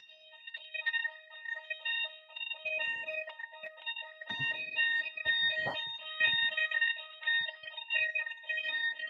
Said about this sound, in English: that's a fire alarm at our end